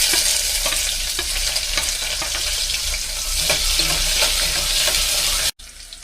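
Onions frying in a pan for a garlicky lentil dish, a steady close sizzle with faint stirring and scraping that runs throughout and stops abruptly near the end.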